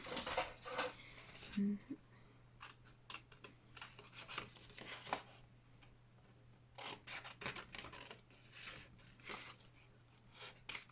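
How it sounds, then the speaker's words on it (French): Scissors snipping paper to cut out a title for a handmade moodboard with a raised frame, a run of short crisp cuts and rustles close by, with light handling of paper between snips and a steady low background hum. "Je prends mon ciseau."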